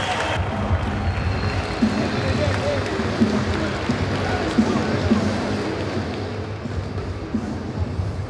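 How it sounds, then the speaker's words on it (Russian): Applause and cheering from an arena crowd greet a new boxing champion from Yekaterinburg after an IBF Inter-Continental bout between Russia and France, sustained clapping and crowd noise with an announcer's voice over it. "аплодисменты новому чемпиону из Екатеринбурга"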